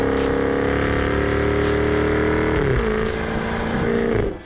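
2024 Jaguar F-Type R75 AWD convertible engine and exhaust: a loud, steady, close drone with a deep tonal hum that drops in pitch midway, then tails off near the end as it settles, with no talking.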